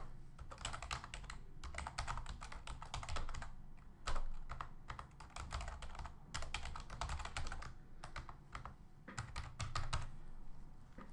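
Steady typing on a computer keyboard, close and clear, in rhythmic runs of rapid keystrokes separated by brief pauses, with no voices.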